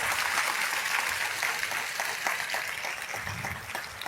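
Applause from a church congregation at an evening worship service, steady dense clapping filling the whole stretch at moderate volume with no voice over it.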